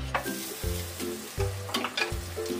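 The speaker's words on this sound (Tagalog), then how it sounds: "Ngayon tayo po ay mag-gisa na" Butter sizzles in a hot pan, ready for sautéing broccoli with mushroom, a steady close frying hiss broken by a few sharper crackling bursts, with no one talking over it.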